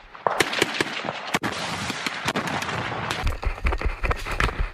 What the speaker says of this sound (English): They also encounter fire from the adjacent military base, which stalls them.